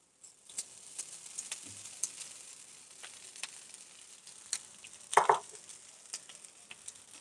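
Cooked rice is added to a pan and stir-fried for restaurant-style paneer fried rice: a quiet steady sizzle under scattered clicks and scrapes of stirring, with a louder clatter near the five-second mark.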